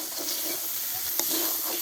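Spices with salt and chili powder fry in a pan in a village kitchen, giving a continuous hiss and sizzle with brief stirring scrapes. There is no talk.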